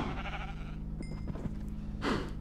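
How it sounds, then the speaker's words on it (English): Sheep bleat in the Minecraft Sky Factory 2 modpack, several close, loud game-animal calls over a steady background hum, with a final bleat standing out clearly near the end. "Okay, sheep, get out of there. I have entirely too many sheep."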